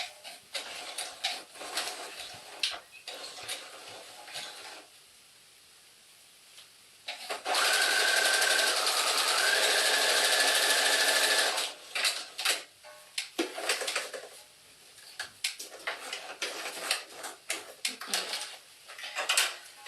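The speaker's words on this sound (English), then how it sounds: "all I'm doing is just sewing the sleeves together at the underarm seam" A sewing machine runs in one steady, loud burst of a few seconds, stitching dress sleeves together at the underarm seam, with quieter handling clatter before and after.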